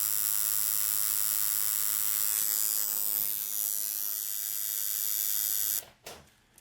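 A tattoo machine runs at about 110 cycles per second with roughly a 50% duty cycle, giving a steady close buzz and hum. It cuts off abruptly near the end, followed by a few short sputters.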